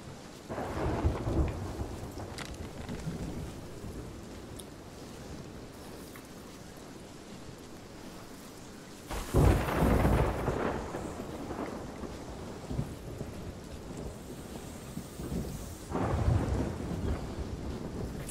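Thunderstorm with steady rain in the pirate video game Sea of Thieves at sea, a constant wash of rain broken by two loud rolling thunder crashes, one near the middle and one near the end.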